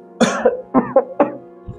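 A man with a worsening cough coughs several times in short, harsh bursts at close range, followed by a softer throat-clearing sound.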